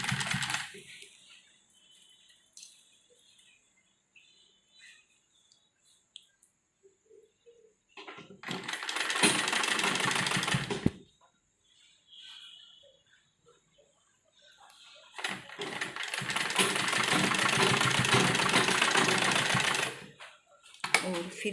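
A sewing machine stitches a dori loop onto a frock side, left half an inch outside the seam, in two separate bursts of close, steady running divided by long quiet stretches with faint handling noises.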